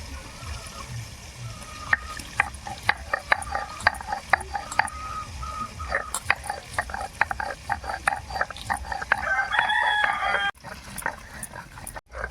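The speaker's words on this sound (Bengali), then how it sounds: "এবার আমি পেঁয়াজটা বেটে নেব।" Onion being ground into a paste, heard as steady, rhythmic scraping and knocking strokes that repeat close by throughout, with no talking.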